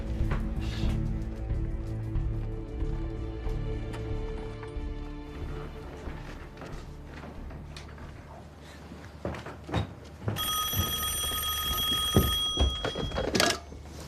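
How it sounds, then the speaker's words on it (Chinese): In a war film scene, low rumble and scattered knocks lead into a telephone bell that rings clearly for a few seconds near the end. "参谋长，王副司令电话"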